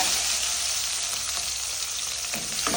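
Onions frying with garlic in hot oil give a steady, close sizzle with a faint crackle throughout, joined near the end by a couple of soft scraping stirs.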